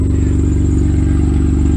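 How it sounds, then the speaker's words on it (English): Worn-out car engine idling steadily right after a new air filter is fitted, a loud close rhythmic low rumble with even pulsing and a faint high whine on top. "So, yeah, it's already idling better, dude."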